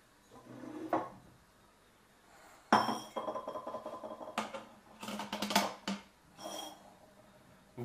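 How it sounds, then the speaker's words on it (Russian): Fresh, sweet hawthorn berries tip into a glass jar, giving a rattling, clinking rush in a few bursts with short pauses, close and fairly loud. "В банку высыпаем боярышник."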